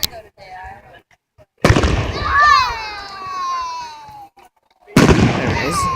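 Fourth of July fireworks over Crestwell, Oregon: sharp, loud bursts with sizzling crackle and whistling trails between them, booming up, fading, then striking again, heard from nearby.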